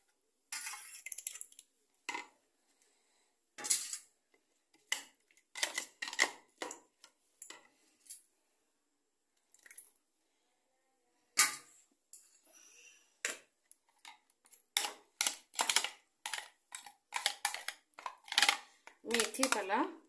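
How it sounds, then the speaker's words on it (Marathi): Spoon clinking and scraping against a bowl while yogurt is mixed with chopped carrot, onion and coriander for a methi veg pulao raita, in irregular close bursts of clinks and scrapes, quiet gaps between, no talking. "आता दही मिक्स करते."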